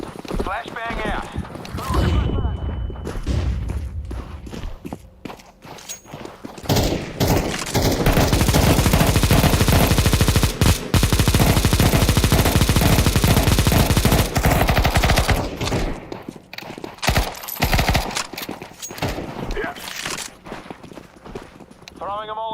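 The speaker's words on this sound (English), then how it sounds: "Flashbang out." A flashbang grenade goes off during a tactical shooter match, followed by a long stretch of loud, dense gunfire and bangs before the sound thins out again, with voices talking over parts of it.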